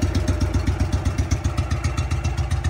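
A Trav-L Vac 300 engine runs close by at a steady, fast-pulsing idle, its rhythmic chugging loud and even throughout.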